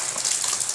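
Rain falling steadily, a close, bright splashing hiss of water with a continuous wash and no voices over it.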